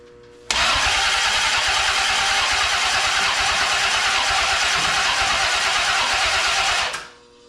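A V8 go-kart engine cranks and catches, then runs loud and steady for about six seconds before cutting off abruptly, with no talk over it.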